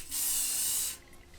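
Crep Protect protective spray is applied to a shoe tongue in one steady close aerosol hiss lasting nearly a second, then cutting off to a quiet room.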